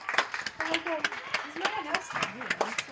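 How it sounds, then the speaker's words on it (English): People clap outdoors during the 2020 lockdown, scattered irregular handclaps in the distance with voices talking over them nearby. "They're still clapping on."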